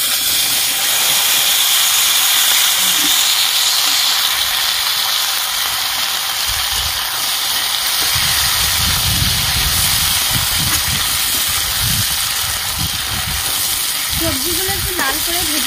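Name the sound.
chopped vegetables frying in fish oil with five spices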